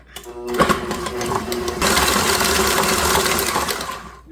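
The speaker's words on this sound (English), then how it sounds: "Gotta go ahead and bring up our mixer and cream it." An electric stand mixer creams kolaczki cookie dough, running as a steady loud whir with a rough, rattling churn that grows fuller partway through and continues without talk.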